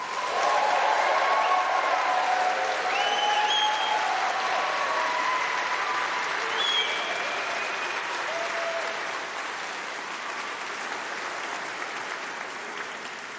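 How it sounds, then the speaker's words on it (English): Graduating students at a summer university congregation ceremony give a long, loud round of applause mixed with scattered cheers and whoops, holding steady before slowly fading. "Let's start by giving yourself a very, very big round of applause and a few cheers."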